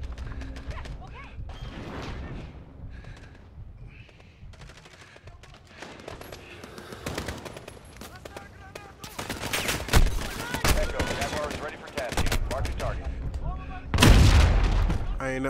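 Dense game gunfire from Call of Duty Modern Warfare, rapid machine-gun bursts and heavy booming shots that build to loud volleys near the end, with a voice talking over parts of it.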